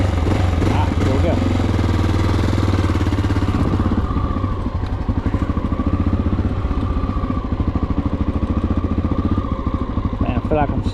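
A carbureted Honda XR650L motorcycle idles as it warms up, its steady low engine chug with light mechanical clatter running loud and close throughout, while someone talks over it.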